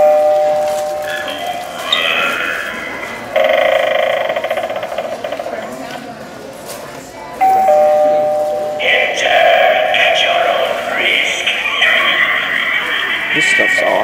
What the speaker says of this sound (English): Oh, look at this new doorbell.